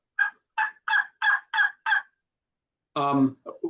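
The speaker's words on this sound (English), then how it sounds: "you typically use what's called tree talk, which is just a real soft call" Six soft, evenly spaced wild turkey tree-call yelps in quick succession, then a pause and a louder, harsher call followed by a couple of short notes.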